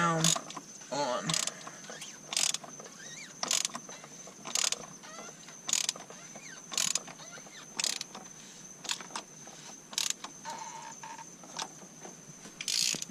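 A 36 mm wrench ratchets on a 2004 Ford F350 6.0 diesel, with a series of sharp, evenly spaced clicking strokes close by over a faint steady background tone.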